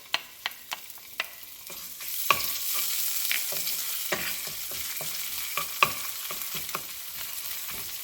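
Fresh ginger paste and garlic cloves hit hot oil in a wok, a few sharp scrapes giving way at about two seconds to a steady loud sizzle, with stirring clicks and taps punctuating it throughout.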